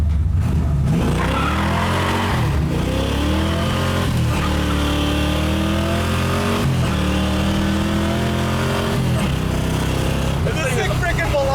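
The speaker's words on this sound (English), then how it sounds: "Engine sounds good, exhaust sounds good." A 1969 Camaro RS/Z28 engine and exhaust rumble loudly from inside the car while driving, rising and falling in pitch through repeated gear changes.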